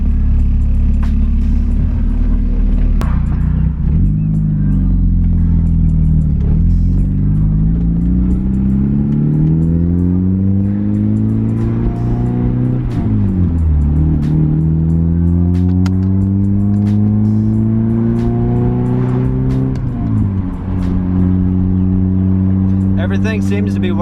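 A car with a newly installed drive shaft and a Torsen limited-slip differential drives on its first run, its engine rising and falling in pitch through repeated accelerations and gear changes, loud and close throughout.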